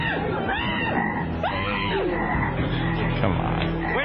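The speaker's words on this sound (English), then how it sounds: "So I'm going to bring some frogs out here." Several frogs croak and wail with warbling, rising and falling calls in a steady loud chorus close by, sounding almost like moaning voices.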